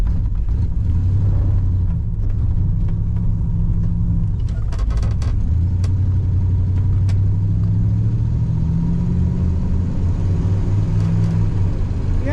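1989 Oldsmobile Custom Cruiser wagon engine idling with a loud, close low rumble, the drivetrain shifting into reverse with small clunks and a brief change in engine note partway through.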